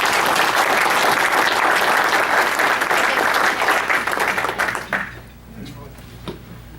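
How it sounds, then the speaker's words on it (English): Loud sustained applause from an audience at a scholarship ceremony honouring a club fellow, a thick roar of clapping that cuts off abruptly near the five-second mark, followed by a few scattered claps and quiet room. "So please join me in a round of applause for Ken."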